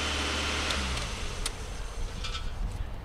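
A car engine runs just after being cranked and started, a close, steady mid-pitched running sound with slight rises, heard alone without talk for about three seconds.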